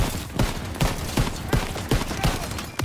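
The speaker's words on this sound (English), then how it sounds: "Getting shot at." Rapid gunfire in the World War II shooter Call of Duty WWII, a close, loud burst of sharp shots at an even, quick rhythm filling the whole stretch.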